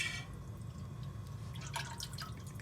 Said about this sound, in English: I'm going to put in a half a quart of the spicy tomato juice just to give it a little kick